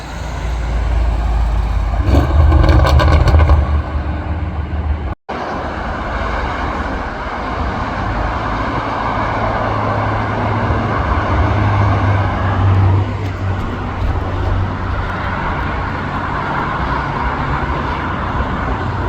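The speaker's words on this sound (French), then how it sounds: "BMW M5 V10." A BMW M5 with its V10 engine drives past during outdoor carspotting, a loud continuous roar that swells near the start, cuts out briefly, then carries on as a steady engine and road rumble.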